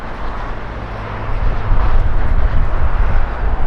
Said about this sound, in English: There goes our JAL Dreamliner.